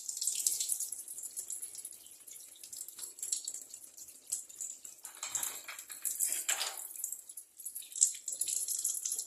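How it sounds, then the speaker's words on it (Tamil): Brass oil lamps are washed under a running tap, with a steady hiss of water splashing into a sink and brief louder gushes and clatters as the lamps are rinsed, heard close and with no voices. "எல்லா விளக்கும் வாஷ் பண்ணிவிட்டு பார்க்கலாம் வாங்க"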